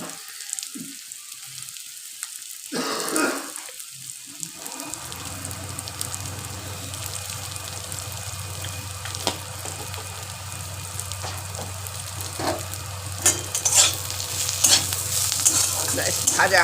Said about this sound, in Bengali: ভাজা হয়ে গেছে পেঁয়াজ।